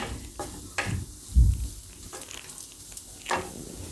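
Spices stirred into hot oil for a Gujarati mixed vegetable shaak, sizzling and frying steadily with a few scraping stirs and one louder clunk of a spoon against the pan, no voices.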